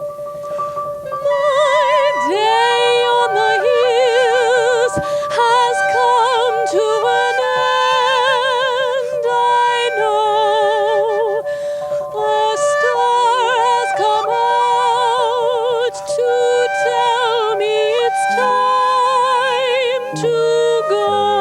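A singer holds sustained, vibrato-rich melodic lines from the musical The Sound of Music, over steady musical accompaniment, loud and continuous.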